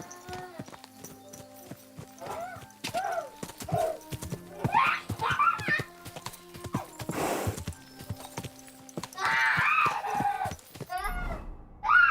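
Steady, rhythmic clip-clop of horse hooves close by, with a horse whinnying and snorting at intervals, in the video game Kingdom Come: Deliverance 2.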